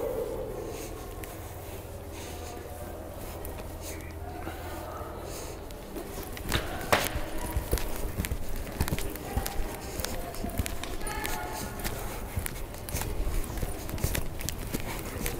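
Horse hooves drum in a quick repeating gallop rhythm on soft ground during a riding lesson, growing louder partway through, with faint background noise and no talking.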